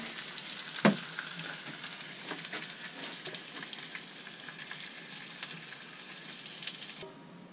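Onion frying in a stir-fry pan gives a steady close sizzle and crackle, with one louder clatter early on, continuing evenly before it suddenly drops away near the end, with no voices.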